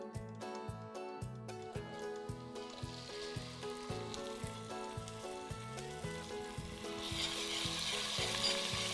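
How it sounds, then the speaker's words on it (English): Garlic and ginger sizzle with coriander seeds in a hot pan, a steady frying crackle that swells louder near the end, with faint rhythmic stirring taps underneath. "Now let's get our garlic and ginger in."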